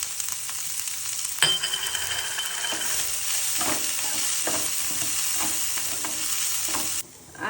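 Cabbage, curry leaves and chillies fry in a hot pan for vegetable soup, a loud continuous sizzle with a sudden burst as ingredients hit the oil, then scraping stirs until the sizzle abruptly drops.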